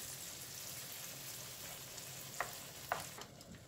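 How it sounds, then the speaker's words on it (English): Sour cream being slowly stirred into a bacon cream sauce for fusilli in a pan, a soft low sizzle under a gentle scraping stir, with a couple of brief clinks near the end and no voices. "Mix it slowly. let the sour cream melt."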